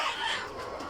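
Chickens, Egyptian Fayoumi hens, cluck in a coop just after the curtains are raised, making a short burst of close, bright clucking.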